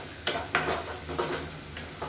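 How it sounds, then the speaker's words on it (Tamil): Cashew nuts fry in a pan while a mushroom sukka is being made. The close, continuous sizzle carries a few distinct stirring scrapes and spatula knocks over two seconds. "இப்போ லேசாக 2 நிமிஷம் வறுத்து விட்டுக்கலாம்."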